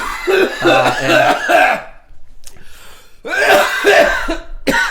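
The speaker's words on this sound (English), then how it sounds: "You were doing a good job coughing off mic for a second" A few harsh, throaty coughs up close, separated by brief quiet gaps, alongside a voice.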